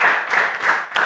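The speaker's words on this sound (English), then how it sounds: "Oh man, clap it up for Corey." A small group of people claps in a brief, close burst, a few quick uneven pulses of hand claps in a casual setting.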